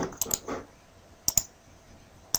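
Keys clatter on a computer keyboard as names are typed into Netcad mapping software, short bursts of quick clicks separated by pauses, close and crisp in a quiet room.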